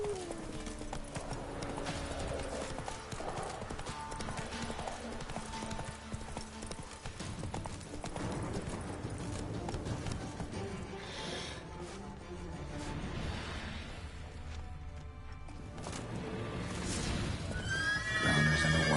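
A horse in The Witcher video game trots with steady clip-clopping hooves and neighs, with layered game sound and music throughout.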